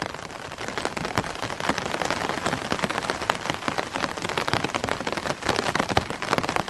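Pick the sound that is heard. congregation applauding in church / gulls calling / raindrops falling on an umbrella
raindrops falling on an umbrella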